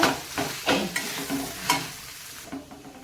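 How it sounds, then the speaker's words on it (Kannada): A spoon works through thick bajji batter mixed with mashed potato in a bowl, giving several soft, wet squelching strokes at an uneven pace, close and fairly quiet, with no voices. "ಈಗ ಇದಕ್ಕೆ ಒಂದು ರೀತಿ ನಾವು ಇದನ್ನು ಮಿಕ್ಸ್ ಮಾಡ್ಕೊಂಡ್ಬಿಡ್ತೇನೆ ಎಲ್ಲವನ್ನು ನೋಡಿ ಈ ಥರ"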